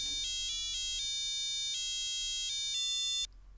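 Electronic buzzer driven by a program plays a quick sequence of steady beeping tones at changing pitches, with short breaks between notes, then cuts off.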